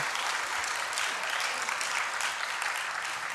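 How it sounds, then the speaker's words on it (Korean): A congregation applauds during an evening church service, with steady, sustained clapping from many hands throughout the short stretch and no talking over it. "우리 다시 한번 큰 박수로 격려해 주시기 바랍니다."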